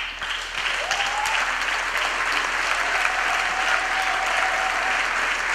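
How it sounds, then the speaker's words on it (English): A graduation audience gives a round of applause for the standing academics at a university ceremony, the dense, even clapping of a big crowd holding steady and loud throughout without fading. "academics to stand up so that we can really give them a big round of applause for the excellent work that they've done"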